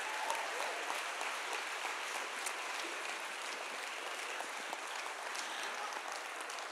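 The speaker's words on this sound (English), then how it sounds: "Let's give these folks a big round of applause" An audience at a lower school fine arts concert gives a sustained round of applause, steady dense clapping filling the room at moderate distance with no talk over it.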